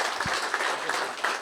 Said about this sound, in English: let's have a round of applause for Gagan